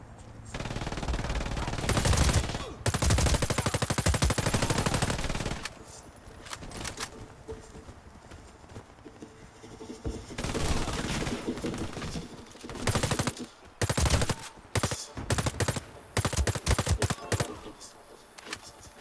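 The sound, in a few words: automatic gunfire in video game Warface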